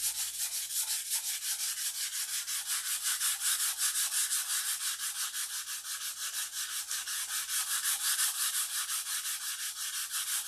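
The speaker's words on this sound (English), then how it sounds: "A little more sanding." Steady back-and-forth hand sanding strips old paint from a bare surface, a close, loud rhythmic rasping of even strokes that carries on for the whole stretch with no talking.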